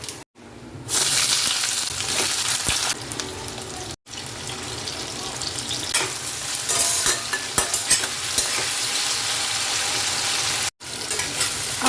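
Whole cumin seeds sizzling in a hot pan as frying begins for a whole-spice loitta (Bombay duck) fish curry, a steady loud crackle with stirring scrapes and brief breaks, no talk.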